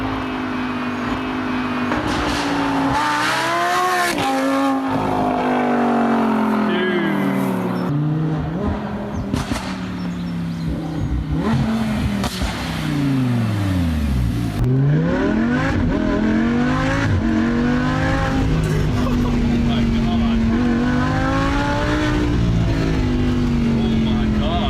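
A Lamborghini Huracán LP580-2 fitted with an Armytrix titanium exhaust roars through repeated loud acceleration pulls, pitch climbing and dropping between gears with sharp lift-off dips, while people talk over the engine.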